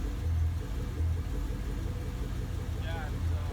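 A 5th-generation Camaro SS engine idles unevenly, its low rumble pulsing irregularly, with faint background noise and no clear speech.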